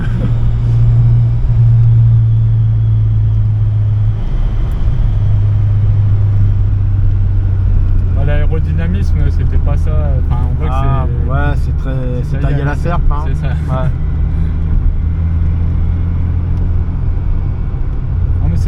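A Fiat Uno Turbo ie turbocharged engine drones steadily with low rumble, then revs up and pulls harder midway, the pitch rising as it accelerates, with speech over it.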